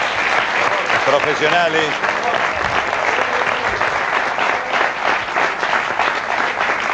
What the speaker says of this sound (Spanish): A todos ustedes un aplauso para estos fenomenales